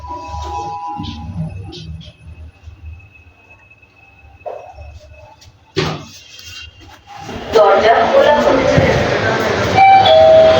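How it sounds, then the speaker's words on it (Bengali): A train pulls into a station, its rising rumble and rattling roar swelling loudly in the final seconds after a quieter stretch of scattered clunks, a chime and a sharp bang. "ফাইনালি ট্রেন আসলো, অনেকক্ষণ ধরে বসে আছিলাম।"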